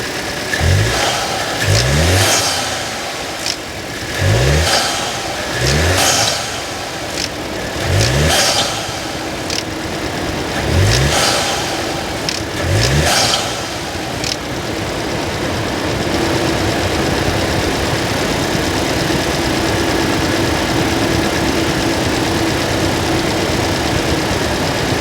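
A VW Tiguan engine, fitted with a new inlet pipe and intake hose, is blipped through a series of sharp, loud revs in close succession, then drops to a steady idle.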